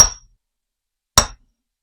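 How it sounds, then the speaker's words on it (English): Two sharp metallic chasing-hammer strikes on copper resting on a bench block, separated by about a second of silence, each ringing briefly with a bright clink. "get out your bench block again and your chasing hammer and give it a whack"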